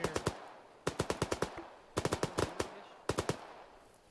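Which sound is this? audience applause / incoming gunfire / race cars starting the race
incoming gunfire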